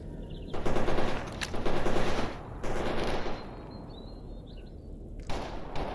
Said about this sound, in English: So that gunfire's either coming from that direction, which is the front end of the depot, or it's coming from the Rostock checkpoint.